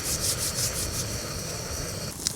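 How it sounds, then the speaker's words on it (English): Hilleberg Allak 2 tent fabric rattling and flapping in strong wind at a Lake District wild camp, a continuous loud rustling roar with gusting pulses and no voices. "although this tent is capable of withstanding strong winds, it makes a bloody noise while it's doing it"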